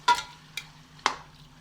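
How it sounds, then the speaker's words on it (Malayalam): Prawns tossed in hot oil in a pan for a prawn biryani: three short, close sizzling bursts from stirring, each fading quickly into a low background hum, with no voices. "ഇനി ഇതിലേക്ക് നമുക്ക് ചെമ്മീൻ ചേർത്ത് കൊടുക്കാം."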